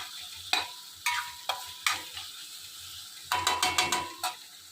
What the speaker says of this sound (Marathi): मसाला चांगला भाजू दे, तरच मिसळला चांगली तरी येईल.